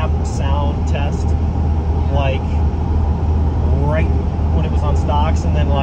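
Steady low road and engine drone inside the cab of a Cummins diesel truck cruising at about 60 mph, constant and fairly loud, with voices talking over it throughout.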